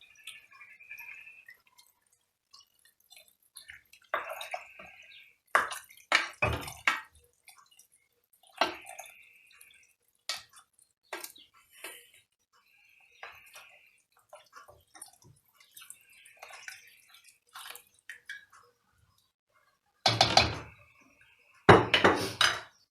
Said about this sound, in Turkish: Üzerine geçecek kadar suyumu koyuyorum.